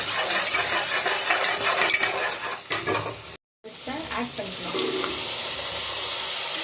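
Sliced tomatoes fry in a hot pan for a vegetable biryani, giving a steady, close sizzle with stirring scrapes and clinks. After a brief cut to silence the frying resumes, loud and continuous, with no voices.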